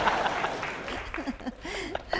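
A TV studio audience at a Vietnamese bolero singing show claps steadily. A host's voice talks over the applause throughout.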